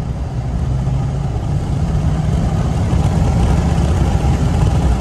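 L5P Duramax diesel truck engine with the turbo resonator deleted, pulling hard under full throttle: a loud, steady low rumble with a broad whooshing turbo noise layered on top, holding throughout without pause.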